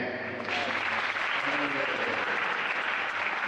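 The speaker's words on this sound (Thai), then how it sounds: "ช่วยปรบมือหน่อยเนี่ย" An audience claps at a gathering on a Bangkok to Ranong charity cycling trip, a steady, loud wash of applause with voices mixed in underneath.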